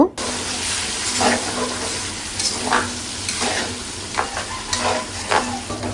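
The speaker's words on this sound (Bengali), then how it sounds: "এখন এগুলো দিয়ে ভালোভাবে নেড়ে চেড়ে নেব" Spices are stirred in a hot pan for a Bangladeshi wedding-style chicken roast, making a soft sizzle with repeated scraping and stirring strokes close by.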